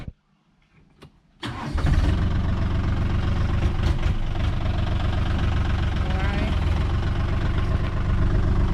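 A Mahindra 40 hp tractor, a test unit with about 87 hours on it, cranks briefly and catches, then settles into a loud, steady, close-up diesel chug that runs without a break.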